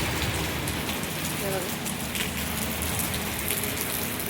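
Heavy rain pours down in a dense, constant hiss, close and unbroken from start to finish.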